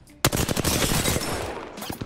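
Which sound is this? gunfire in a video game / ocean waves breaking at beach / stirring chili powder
gunfire in a video game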